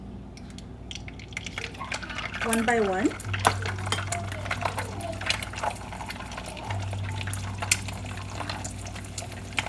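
Eggs fry in hot oil in a pan, a soft continuous sizzle with scattered crackles and pops close by, while a voice speaks briefly over it.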